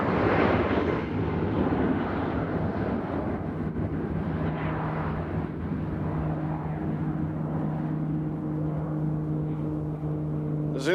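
A fixed-wing aircraft takes off at Nashville International Airport, a broad distant engine roar that holds steady and develops a droning tonal hum toward the end, heard alone without talking.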